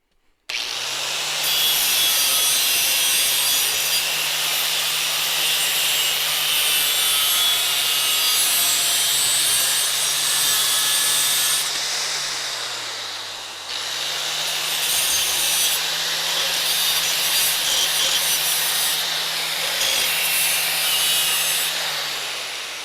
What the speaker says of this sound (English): I'm just gonna get at it with the grinder real quick.